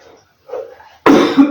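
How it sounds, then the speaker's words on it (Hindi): A single loud, harsh cough bursts out at the end, right after a few soft throat sounds, from a teacher in a chemistry lesson. "खांसी आ रहा है।"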